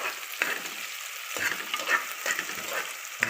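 Chopped onions sautéing in a pan while a home-made biryani is prepared, giving a steady close sizzle broken by several sharp scrapes and stirs of a spoon against the pan, with no voices.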